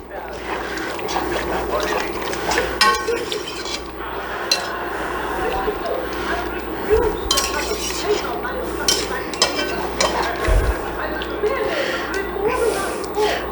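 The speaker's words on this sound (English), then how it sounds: "we're going to deglaze the bottom of the pan. So we wanna just kind of scrape. I found my metal spatula." A metal spatula scrapes and clinks against the bottom of a pan while beef with peas is deglazed, a busy run of scrapes and metallic taps under steady talking.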